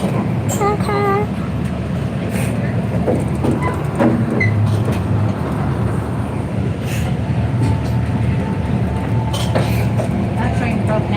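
A small zoo railroad train that has broken down gives off a continuous low mechanical rumble with occasional brief tonal squeals and clicks, and faint voices in the background.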